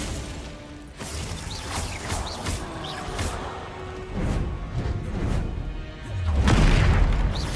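Confringo blast spells from the video game Hogwarts Legacy burst in a chain of booming, crackling explosions amid combat clatter, building to a heavy low-end blast near the end.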